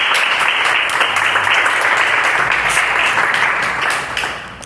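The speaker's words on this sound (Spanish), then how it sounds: "Den un fuerte aplauso al Espíritu Santo." A large church congregation applauds loudly and steadily, the dense clapping sustained throughout before beginning to taper off at the end.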